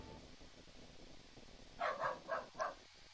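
A dog in the video game Storm of Zehir gives four quick barks in a short burst, fairly close, after a quiet stretch of faint background noise.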